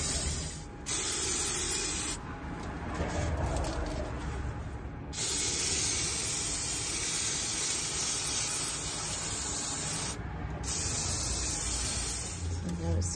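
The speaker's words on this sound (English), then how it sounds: "Okay, go ahead and spray this one." Spray adhesive being applied for styrofoam ceiling planks in a minivan: close, continuous aerosol hissing in three long bursts separated by brief pauses.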